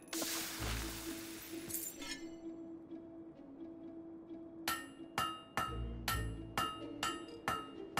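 In the Fable 3 smithing minigame, a blade is hammered on an anvil: a run of sharp metallic strikes in an uneven rhythm, loud and ringing, with no talk over them.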